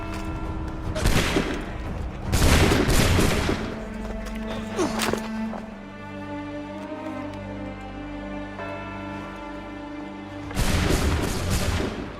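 Musket volleys in Assassin's Creed 3, several crackling rounds of massed gunfire in bursts with sustained musical tones and faint voices between them, then a final loud volley near the end.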